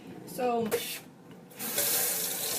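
Tap water runs into a stock pot for homemade vegetable stock, starting with a brief splash, pausing, then rushing steadily as the pot fills, with a voice briefly speaking near the start.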